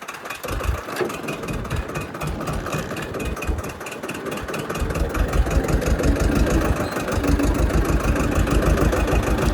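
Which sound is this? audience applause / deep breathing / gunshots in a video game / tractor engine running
tractor engine running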